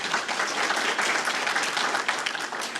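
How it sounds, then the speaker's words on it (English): Applause from an audience for a speech competition winner at a Kiwanis youth event, a dense, steady wash of many hands clapping throughout, fairly loud and continuous. "So just a round of applause for Madeline."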